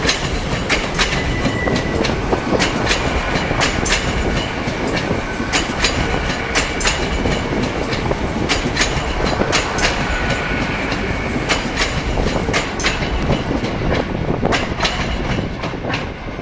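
A train passes in North East England, a loud continuous rumble with rhythmic clickety-clack of wheels over rail joints, steady and close throughout before easing slightly at the end.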